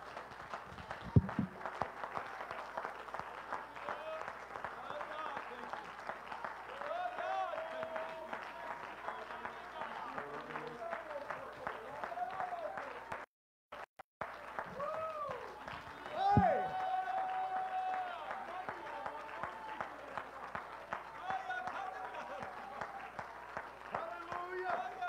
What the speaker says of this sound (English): give God a massive hand clap of praise